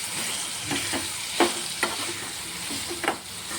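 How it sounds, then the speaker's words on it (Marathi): Green chilli thecha with salt being stir-fried in a pan, a steady sizzle with scattered spatula scrapes and knocks, close and moderately loud, no voices. "ते थोडंसं मीठ घालणार आहे चवीनुसार आणि छान असं परतवून घ्यायचं आहे"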